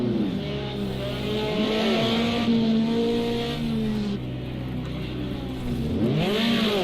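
A BMW 2002 race car in a sim racing game at Long Beach drones steadily at high revs, its engine note rising and falling with shifts, loud and close with no talk over it.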